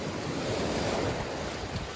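Ocean surf breaking along a sandy shore in shallow water, a steady continuous wash of waves with wind noise buffeting the microphone, loud and close throughout with no talking.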